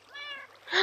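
Cat meowing in the Minecraft video game: one drawn-out, tonal in-game meow followed by a brighter, louder second meow, close and clear with no talking.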